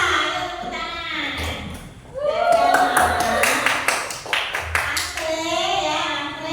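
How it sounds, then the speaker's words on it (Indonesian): A classroom of children claps, with irregular sharp hand claps and taps that cluster in the middle and late parts, under children's and an adult's talking. "Ayo tepuk tangan."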